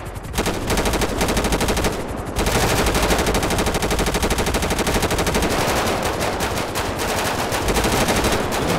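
Sustained automatic gunfire in the GTA 5 roleplay game, loud dense bursts with a brief gap near two seconds, then continuous rapid shots to the end.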